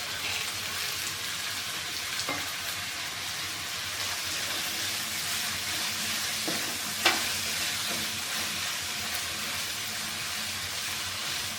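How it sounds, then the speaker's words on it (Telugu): Cashews, cardamom pods, cinnamon sticks and a small piece of ginger fry in a pan, giving a constant close sizzle with occasional soft stirring scrapes and one sharp tap, no voices. "ఒక 10 మినిట్స్ వరకు ఇలా వేపుకోవాలండి బాగా."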